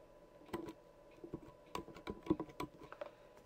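Typing on a computer keyboard: quiet, uneven bursts of close key taps and clicks spread over a few seconds, with no voice.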